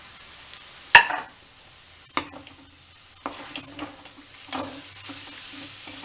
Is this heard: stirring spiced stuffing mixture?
yes